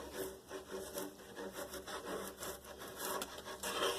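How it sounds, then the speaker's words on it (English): Steady scraping and rasping of a sharp chisel shaving foam-like material off a water-damaged wooden table top, close and continuous, with small uneven strokes. "A nice sharp chisel. Take that right off."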